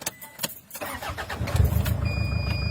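A Toyota Fortuner with low power cranks, catches and settles into a rough, uneven idle, heard alone at moderate level.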